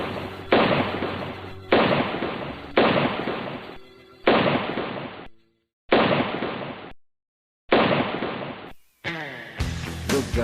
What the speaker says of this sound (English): took out his gold-plated, ivory-handled Colt 45 automatic, and shot the unfortunate messenger until the ammo cartridge was empty